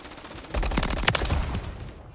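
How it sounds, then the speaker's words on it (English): Rapid automatic gunfire in Call of Duty on the CDL map Vista: a dense burst of shots begins half a second in and keeps up for well over a second, loud and close, then trails off. "I was shooting at everything"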